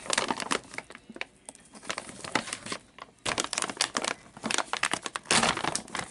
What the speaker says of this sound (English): They're in a resealable plastic bag